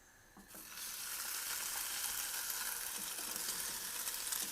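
A slice of high-protein French toast sizzles steadily in a pan over medium heat, the frying hiss swelling after it is laid in and holding loud and continuous, with no one talking.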